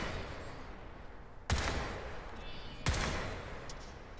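Rapid gunfire in the video game Crysis 3 comes as two sharp, loud bursts over a dim background hiss, each one decaying quickly.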